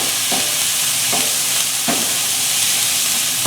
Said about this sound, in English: I'm going to saute this around with the onion and let the garlic soften and get translucent with the onion